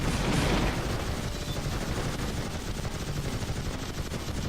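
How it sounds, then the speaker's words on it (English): A machine gunner fires in the robot combat game Gladiabots, letting out loud, continuous rapid-fire bursts with dense overlapping reports and no talking. "And there's the machine gunner spooling up."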